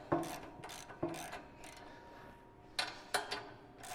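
Ratchet wrench spinning flange bolts off the hood mount of a first-generation Kubota BX compact tractor, several bursts of rapid close clicking separated by short pauses, no talk.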